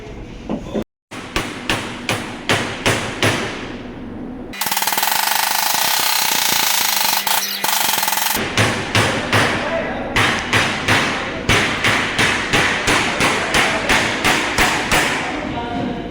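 Checker plate is hammered into a bend for a Hyundai Starex mobile workshop conversion. Close, loud metal blows come in quick series, broken by a few seconds of louder continuous grinding or cutting noise, then more rapid strikes.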